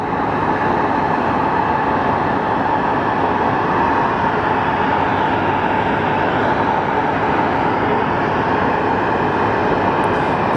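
Jet engines of departing American Airlines planes at Sky Harbor Airport roar as a steady, dense, unbroken wash of noise, loud and constant with no distinct breaks.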